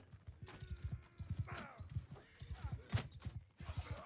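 Rhythmic clip-clop of horse hooves in the Mount & Blade II: Bannerlord video game, steady and close, with faint clashes and a brief whinny-like sound over the top.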